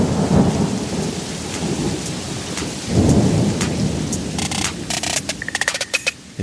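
A thunderstorm with steady heavy rain hissing on surfaces and deep rolling thunder rumbling up loud, followed by sharp crackling bursts toward the end.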